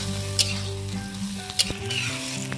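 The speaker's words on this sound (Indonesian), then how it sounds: "pisang yang sudah matang kita goreng lalu kita masak sayur bersama dengan sayur-sayuran" Ripe banana pieces and mixed vegetables frying in a pan, a loud steady sizzle with occasional sharp stirring scrapes, close and without speech.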